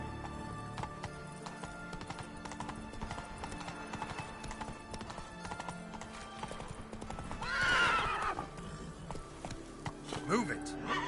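Roach the horse gallops in The Witcher 3, with rhythmic clip-clop hoofbeats and a loud neigh partway through, under spoken game dialogue and background sounds.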